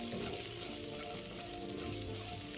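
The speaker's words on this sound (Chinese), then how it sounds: "锅里倒入1大匙食用油，再将预先备好的小红葱片倒入爆香" Sliced shallots sizzle in a spoonful of cooking oil in a wok, giving a steady, soft, crackling hiss that runs unbroken throughout, with no talk over it.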